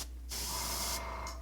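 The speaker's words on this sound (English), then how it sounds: "Now we'll just we'll spray upwards, taking advantage of the three-dimensional qualities of the model." Spray paint hissing from a can onto a miniature Stormcast Liberator model, one sustained burst of about two-thirds of a second, close and bright, with the can's faint start and a short trailing puff at the end.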